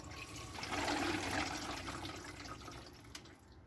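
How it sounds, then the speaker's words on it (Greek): Water rushes steadily into an under-sink water filter just after the cold supply is opened, a continuous hissing flow that swells then gradually eases, with a single small click near the end. "Γεμίζει το φίλτρο με νερό."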